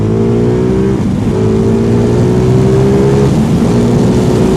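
A 2023 Ducati Multistrada V2 motorcycle engine drones loudly and steadily as it accelerates, its pitch climbing and then dropping at each quick-shifter upshift, a constant close roar with no voices.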